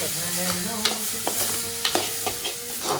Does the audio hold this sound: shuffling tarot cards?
no